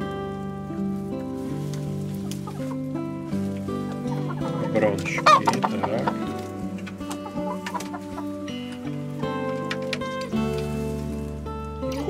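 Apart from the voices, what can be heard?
hens clucking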